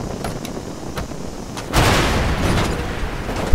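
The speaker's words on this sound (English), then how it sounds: "Wow, that was an epic explosion." An explosion in the Far Cry 2 map editor bursts into a sudden loud rumbling blast about halfway through, following a quieter stretch of ambient noise and sustaining a broad roar to the end.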